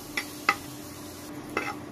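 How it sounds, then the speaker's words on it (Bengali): Garlic and black cumin seeds dry roasting in a pan with no oil, stirred so that a few brief scraping strokes stand out over a soft, steady background hiss. "তেল ছাড়াই এগুলো শুকনো শুকনো করে টেলে নিতে হবে।"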